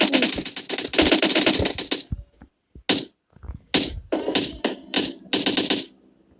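Shots from an enemy shooter in a video game: a long dense burst of rapid fire, then a string of short separate volleys with near-silent gaps, fairly loud and close.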